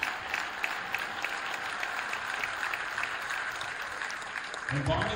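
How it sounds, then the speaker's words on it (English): Crowd applause for sixth grade cheerleaders fills a gym with steady, dense clapping, some individual claps standing out, before a voice comes in near the end. "Big round of applause for our 6th graders."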